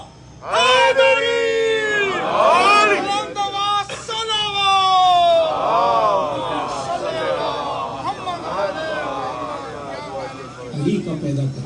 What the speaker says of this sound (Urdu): نعرہ حیدری